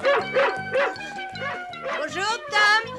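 A dog barks in repeated yipping bow-wow bursts at close range, roughly five or six barks spread over a few seconds, mixed with speech-like voices and a tonal musical background, as in a dubbed French cartoon scene.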